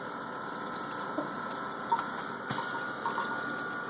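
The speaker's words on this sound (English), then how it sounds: "I'm going to flip it over to pulse mode so you can hear it." A Philips Respironics SimplyGo portable oxygen concentrator runs in pulse mode at setting 3, giving faint, close ticking puffs and clicks at irregular intervals over a low mechanical hum, with a tap dribbling quietly in the background.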